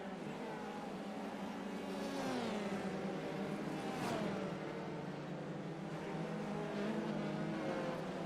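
F3 race cars lapping the Long Beach street circuit in the iRacing sim, engines whining and rising through the gears as several cars pass, a continuous layered buzz of moderate loudness.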